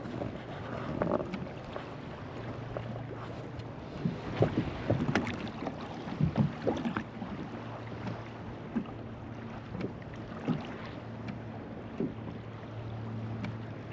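Wind buffeting a kayak on a cold South Carolina lake during a fishing tournament, a steady rushing gust noise with bumps and gentle water sounds close by.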